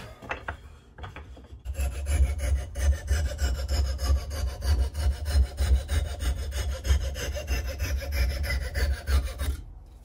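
A hand saw cuts off the excess wood from a single bit Craftsman axe handle, making a steady back-and-forth rasping rhythm of quick strokes, close and loud, after a brief pause and a couple of light knocks.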